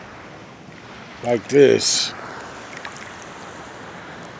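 Surf rolling in on the Atlantic Ocean during a morning swim, a steady soft wash of waves and wind heard throughout, with a short burst of nearby speech breaking in about a third of the way through.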